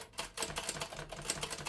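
A 1937 Remington Noiseless Model 1 typewriter being typed on gives a quiet, muffled patter of soft key thumps and mechanism clicks in a quick, even rhythm, close by and alone.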